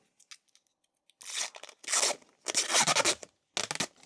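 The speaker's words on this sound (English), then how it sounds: "Let's go with our favorite sticky tape." Sticky tape being pulled and torn off the roll while a tattoo pen is wrapped, heard as several loud, close, crackling rips in separate bursts with short silent gaps.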